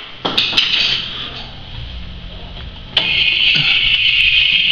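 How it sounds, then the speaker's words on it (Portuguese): A CNC router spindle motor spins up with a sharp click and a sustained high whine, then jumps louder at a second start and holds a steady shrill tone, with faint clatter underneath. "vou ligar o motor"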